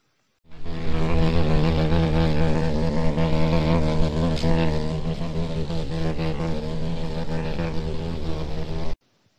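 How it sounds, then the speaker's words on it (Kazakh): A beetle buzzing: a steady, loud droning hum with a rich, even tone that holds close and unbroken for about eight seconds. "Қоңыз қандай дыбыс шығарады?"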